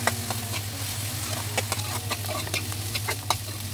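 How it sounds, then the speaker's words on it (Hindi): Finely chopped onions with whole coriander seeds sizzling in a pan for palak paneer, a steady frying hiss broken by repeated scraping stirs, close and with no talk. "हमने दो प्याज बारीक कटे हैं वो भी डाल देंगे और ऊपर से हम थोड़ा सा साबुत धनिया डालेंगे"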